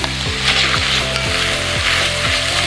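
Shredded beets sizzle steadily in a hot pan for beet soup, a loud continuous frying hiss broken by occasional stirring scrapes, with no one talking.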